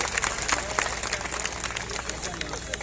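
Applause from a large crowd at an outdoor teachers' protest march in Solapur, a dense, steady patter of many hands clapping throughout with some cheering and babble mixed in.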